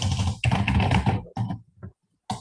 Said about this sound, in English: And you can type something.